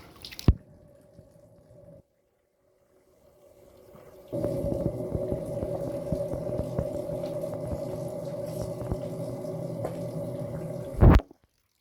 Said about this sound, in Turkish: Şöyle dört bir taraftan bambu bambularla su akıyor